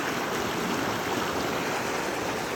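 A small, clear river flows past its bank in Brgy Jamog, Tigbauan, Iloilo, giving a steady, close rushing wash of water that stays even throughout with no voices.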